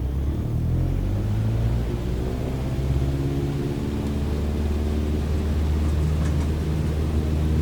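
An aircraft engine runs at full power in Microsoft Flight Simulator 2020, a dense, loud droning roar with rising tonal hums layered over a constant rumble throughout.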